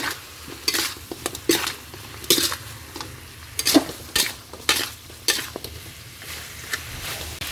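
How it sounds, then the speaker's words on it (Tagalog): Spoon scraping and clattering in a pan as adobong tuyo, dried fish simmered in boiled vinegar, is stirred: a close, irregular series of sharp scrapes and knocks over a low, steady simmer. "pwede na natin siyang haluin"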